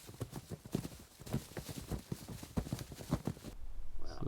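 Pack horses being loaded for an elk bow-hunting trip in the Idaho backcountry clip-clop on the ground in a steady uneven rhythm of hoofbeats, fairly close and clear, with no talk over them.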